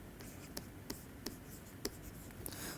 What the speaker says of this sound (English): let me write the function here and let me write the derivative.